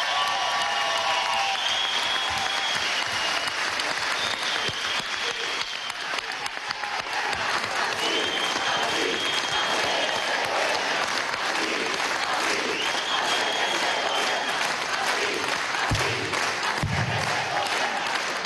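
A large crowd at a collective labour contract signing ceremony applauds and cheers for telecom company workers, with sustained, dense clapping and shouts running throughout, steady and loud from start to finish.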